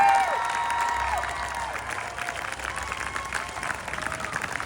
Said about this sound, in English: Round of applause for you, your newest members of the United States military.